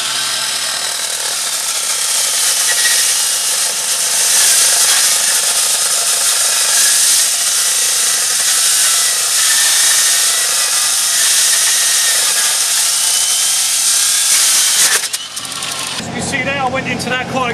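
A Weber Rescue TwinSaw cuts through a cast metal car hinge during road-collision extrication training, giving a loud, continuous harsh grinding whine that runs steadily for many seconds before abruptly stopping.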